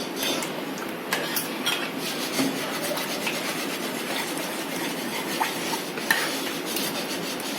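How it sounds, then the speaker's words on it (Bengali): A utensil stirs and scrapes through a thick mixture of sour yogurt in a bowl while making sweet curd, a steady close rubbing and clinking that continues throughout, with no talking. "টক দই দিয়ে এটাকে এরকম ভালো করে মিশিয়ে নিতে হবে"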